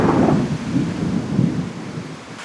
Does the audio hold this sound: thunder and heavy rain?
yes